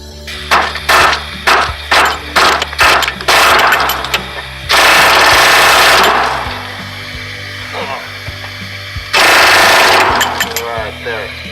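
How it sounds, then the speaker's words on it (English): Hammer blows drive a chisel against the upper rear shock absorber stud on a 2001 Jeep Cherokee, giving a series of loud, sharp metallic strikes in quick bursts, broken by longer harsh grinding stretches of noise. "Now I can finish that with the chisel maybe."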